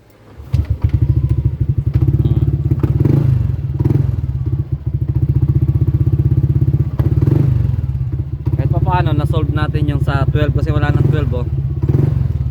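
A motorcycle engine starts and settles into a steady low idle that runs throughout, with a brief dip partway and some clattering and thumps near the machine, heard close up with a voice talking over part of it.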